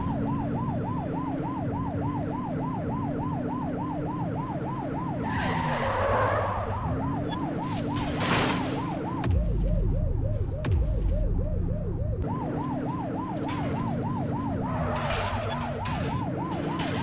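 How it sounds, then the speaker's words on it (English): A police car siren in the game The Precinct wails steadily and then switches to a faster yelp, with a car engine running underneath and brief tire skids. "Remember to turn your siren on."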